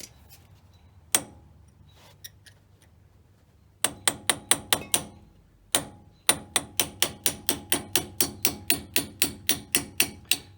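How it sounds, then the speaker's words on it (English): A hammer taps a pin drift to knock out a front brake pad pin on a Mercedes W463 G wagon: a few isolated sharp metallic strikes, then long steady runs of close, evenly spaced taps. "3 or 4 millimeter pin drift from the front and tap it out"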